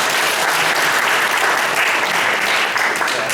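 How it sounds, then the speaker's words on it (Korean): A studio audience applauds to welcome a guest at a baseball talk event, dense steady clapping from many hands filling the whole moment without any voices. "다시 한번 박수로 맞이해 주시기 바랍니다."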